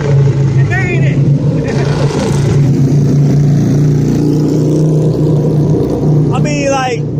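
A loud engine revs like a Harley-style motorcycle on a busy San Francisco Embarcadero street near the clock tower. A steady low rumble runs throughout with brief revving swells, and people talk over it the whole time.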